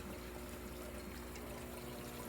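Water rushing quickly through a homemade fish tank sump filter, a steady close-up pour and splash with constant hiss and no breaks.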